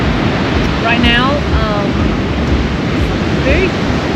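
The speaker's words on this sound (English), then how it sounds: "You can hear the waves, so we're talking especially loud." Ocean surf and strong wind on the coast at Da Nang, Vietnam, roaring as a steady, loud wash of noise, with voices talking over it.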